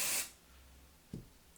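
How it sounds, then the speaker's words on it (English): Hairspray hisses from an aerosol can onto hair in one loud, close spray burst at the start, followed by quiet room tone and a soft brief handling noise. "So I'm just going to spray this all over the hair, starting at the roots"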